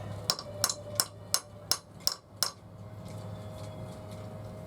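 A ratchet wrench works on an exhaust manifold bolt of a Luhrs 28 boat, giving about seven sharp metallic clicks in a steady rhythm over roughly two seconds. Each click is close and fairly loud, followed by quieter background noise.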